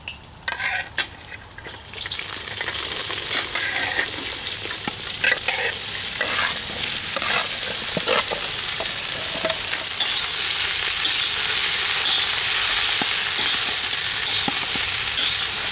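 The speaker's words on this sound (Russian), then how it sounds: "Сразу выкладываю все овощи и обжариваю их." Vegetables frying in oil in a kazan, a steady loud sizzle with intermittent clatter of stirring, growing denser and hissier toward the end, no voices.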